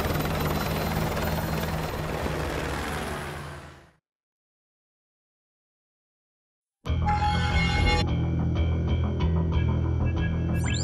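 Helicopter in the video game Call of Duty: Modern Warfare 2 Campaign Remastered, a steady, close rotor drone that fades to silence, then returns just as loud with a brief high whine layered over the rotor.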